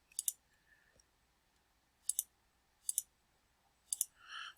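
Four crisp double-clicks of a computer mouse, evenly spaced and close, over near silence with a soft rustle at the end.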